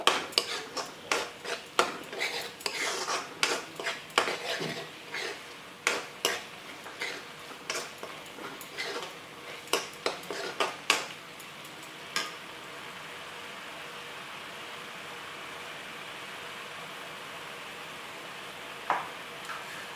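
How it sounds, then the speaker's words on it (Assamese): Ginger garlic paste frying in a pan, stirred with a spoon that taps and scrapes the metal in quick irregular clinks for about twelve seconds, then a steady low sizzle with only an occasional knock. "আদা নহৰু গোন্ধটো যোৱালে অকণমান ভাজিব লাগিব।"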